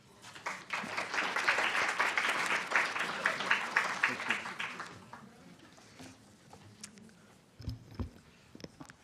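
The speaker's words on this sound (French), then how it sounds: "On vous applaudit." Audience applause at an academic law conference, a sustained burst of clapping from a seated crowd for about five seconds, then fading into quiet room noise and a few scattered sounds.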